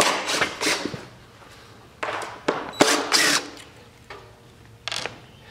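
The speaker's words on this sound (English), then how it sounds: "So now we're taking the hinges off." Hinges come off built-in cabinets, with several short, sharp bursts of a power driver buzzing and clicking nearby, separated by brief quiet gaps.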